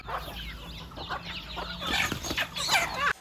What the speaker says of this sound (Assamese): আমাৰ চাব পাৰে মুৰ্গী পোৱালি আছে ডাঙৰ মুৰ্গী আছে